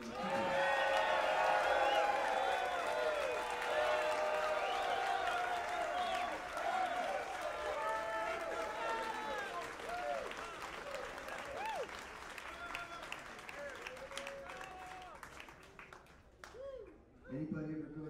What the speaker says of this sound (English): Please, a warm round of applause for Mr.